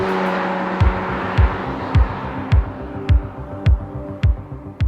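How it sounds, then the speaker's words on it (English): A 2020 Toyota Supra's engine with digitally augmented racy sound rumbles through a steady series of rhythmic pulses, each low throb recurring roughly every half second with a sustained hum underneath. "There's a digital augmentation that's been added to make this car sound a little bit racier."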